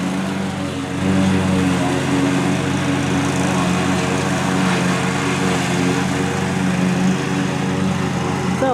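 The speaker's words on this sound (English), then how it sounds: "So my dad is doing a little mowing on his little cadet" A Cub Cadet riding lawn mower mows outside, its engine a steady, fairly loud drone that swells slightly after the first second and holds constant throughout.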